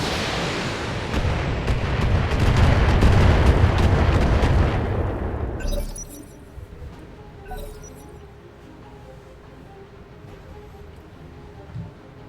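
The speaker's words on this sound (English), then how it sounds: "Firing on target." Mech weapons fire in a BattleTech battle, a dense roaring barrage of cannon and missile blasts for about six seconds, then cutting off to a quieter rumble with scattered distant impacts and a clink near the end.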